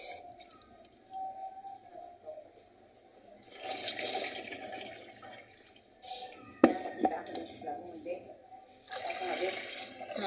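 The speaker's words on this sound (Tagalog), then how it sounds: "Hugasan muna natin yung ating bigas" Brown rice being washed in water in a home kitchen while making lugaw, with splashing, pouring and rinsing bursts that come and go in several spells, under light talk.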